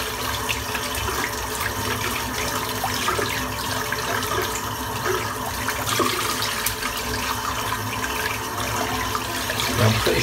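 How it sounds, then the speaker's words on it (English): A badger shaving brush is rinsed under a running tap, with steady close splashing water and a few small knocks and swishes as it is worked through the stream. "I'm just going to clean the brush out."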